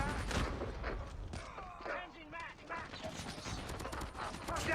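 Sniper rifle shots ring out in the Call of Duty game, several sharp cracks among other game noise and rapid ticking, with people talking over the action.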